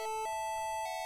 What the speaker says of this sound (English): bell sounds for the end of the round